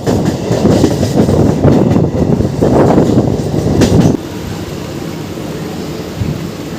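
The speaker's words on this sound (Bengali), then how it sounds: "আমাদের ট্রেন চলে এলো কিন্তু বাঁকড়া নয়াবাস স্টেশনে।" Santragachi–Amta local train 68911 rolling along the rails toward a station, a loud continuous rumble with rattling wagons that drops to a quieter steady hum after about four seconds, no voices.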